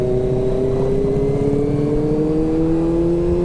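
Scooter or small motorcycle such as a Yamaha Mio accelerating hard on an afternoon road ride, engine note rising steadily, loud and continuous with rushing wind and no talk.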